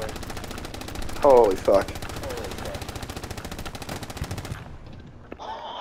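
Rapid automatic gunfire in a video game, a dense, fast, evenly spaced stream of shots that carries on for several seconds and then cuts off, with a loud voice shouting partway through and a short burst near the end.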